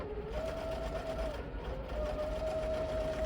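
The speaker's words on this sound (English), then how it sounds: "you're gonna just sew right on the edge here, about 1/8 of an inch to close that up" A sewing machine runs steadily, stitching close along the edge of a fabric book sleeve to close the lining; its motor hum and needle chatter are close and continuous, with a brief dip partway through.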